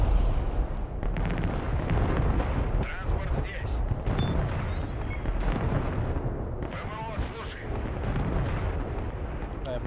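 Dense, continuous artillery and gunfire from the Broken Arrow war video game, with booms and bursts layered throughout, someone occasionally talking over the battle.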